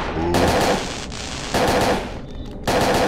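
Three loud bursts of gunfire ring out in the video game Parasite Eve 2, each sharp volley separated by brief quieter gaps.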